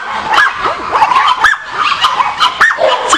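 Several puppy-mill dogs yipping and barking in quick, overlapping bursts, with some whimpering, fairly close and busy throughout.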